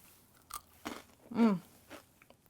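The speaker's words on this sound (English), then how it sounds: "Super crunchy, and for something that's deep fried, it's not greasy at all" Close crunching bites on a crisp, deep-fried Thai snack, a few separate crunches with one loud burst in the middle, no talking.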